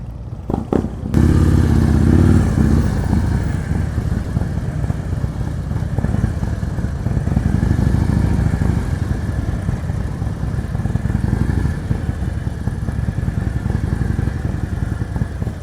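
A motorcycle engine runs continuously at low, steady revs nearby during slow-speed riding practice in Maryland, with a mechanical clatter underneath and no talk.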